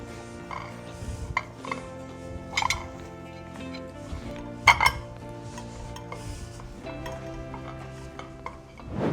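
Plates and glasses clatter and clink as dishes are handled in a home kitchen, with scattered sharp knocks and chinks over a steady background hum and no talking.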